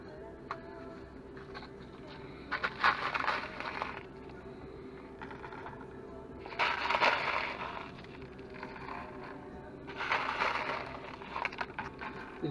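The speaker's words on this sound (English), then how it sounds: "Now then, let's get the glass in." Cheap glass beads are poured in three separate bursts, each a bright, hissing rattle of many small pieces lasting one to two seconds, over a constant low hum with quieter clicks between pours.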